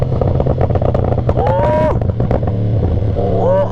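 A Yamaha R1M crossplane-engined superbike roars loud and close on a night ride, rising in a couple of throttle pulls amid steady engine drone and wind, with someone talking over it.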